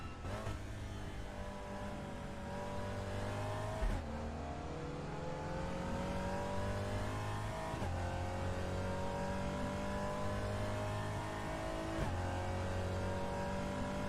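GT4 race car in RaceRoom, engine note loud and continuous, revs climbing steadily through the gears with sharp drops at each upshift, roughly every four seconds.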